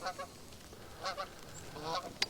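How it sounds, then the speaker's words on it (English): Several geese honk in short bursts as they fly overhead on a snowy morning, fairly faint and distant, with calls clustered in quick pairs. "So here come our local geese that fly over at least once a day"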